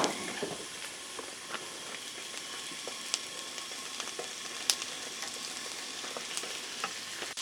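Red onions with green and red peppers sizzle steadily on a 36-inch griddle, a continuous close frying hiss with occasional sharp pops and spatula scrapes throughout.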